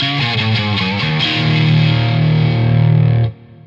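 A heavily distorted electric guitar, recorded through a Royer ribbon microphone, plays a short riff, then holds a thick, buzzing chord that cuts off abruptly.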